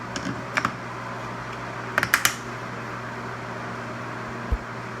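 A few sharp little clicks and snaps of plastic tile spacers popping into place, some in quick pairs, over a steady background hum.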